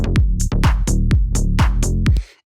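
Synth bassline from an earcandy-style beat drop, rhythmic harmonic notes with pitch sweeps, about eight loud punchy hits in steady rhythm before stopping abruptly with a brief noisy tail.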